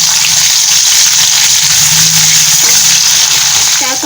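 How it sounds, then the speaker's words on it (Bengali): Cumin seeds hit hot oil for tempering while making Bengali motor ghugni, a loud, close, continuous frying hiss that holds steady throughout. "তেল গরম হয়ে গেছে, এবার এখানে দেবো একটু জিরে ফোড়ন"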